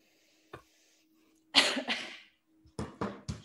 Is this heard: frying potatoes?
no